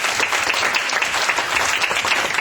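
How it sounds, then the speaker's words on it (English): An audience at an airline media day applauds, a loud, close, dense clatter of many hands clapping in quick uneven rhythm with no talking. "You guys can applaud for Pete."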